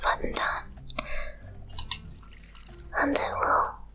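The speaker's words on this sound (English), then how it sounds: "Yeah, see, like the watering sound is pretty pleasant" Watering crops in the farming game Sun Haven, with soft splashing water bursts that come in a few separate pulses, the loudest near the start and the end, mixed with quiet voice-like sounds.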